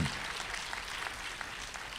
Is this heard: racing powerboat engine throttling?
no